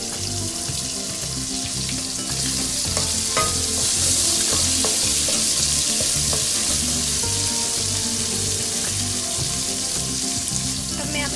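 Plums land in a hot pan for a beef yakhni pulao, bringing a loud, continuous frying sizzle close by, with scattered stirring clinks and scrapes throughout.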